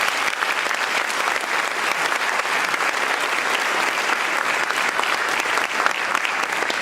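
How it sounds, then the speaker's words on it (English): Steady, dense applause from a concert audience honoring the musicians at a retirement concert, sustained and even throughout without letup. "Let's give them a round of applause."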